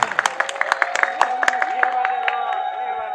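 An audience at a kirtan performance claps in a burst of sharp, scattered handclaps that thin out after a couple of seconds, with a voice singing or speaking over them.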